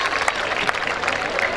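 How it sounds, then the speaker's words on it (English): A crowd claps at a school annual day in Bikaner, honouring staff, co-workers and children, a brief burst of dense, close applause. "put your hands together for an awesome round of applause for the staff, co-workers, and my beautiful children"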